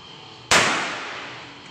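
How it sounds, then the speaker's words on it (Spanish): A single sharp pop of a rubber-ball traumatic pistol shot cracking against a CD, with a bright burst that fades over about a second; no talking. "vamos a disparar a un CD"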